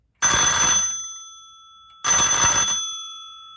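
An antique electric bell run at 12 volts rings loudly in two separate bursts of rapid clanging, each lasting under a second and leaving a ringing tail that fades.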